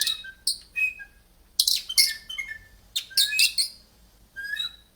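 A handheld bird call device imitates birdsong with a series of bright, high chirps and squeaky tweets in short irregular bursts, close and fairly loud, with no talking over it.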